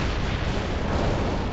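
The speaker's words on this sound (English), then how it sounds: "Zulu 9 are firing mortars at the target coordinates" Mortar rounds firing in the real-time strategy game World in Conflict, a dense, loud, sustained rumble of blasts and booms filling the whole moment with no talk.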